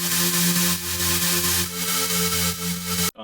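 Upper synth layer of a melodic dubstep tear-out drop, a bright sustained chordal tone with buzzy harmonics that swells in regular rhythmic pulses, loud and unaccompanied before stopping suddenly.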